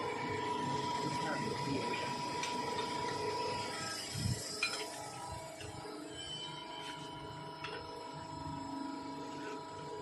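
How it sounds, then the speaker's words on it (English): A ratchet tightens a screw on metal bending equipment, a fast run of close mechanical clicks at first, then quieter scattered clicks and clunks as the turning slows, with a steady machine hum underneath. "Now he's turned tight the screw"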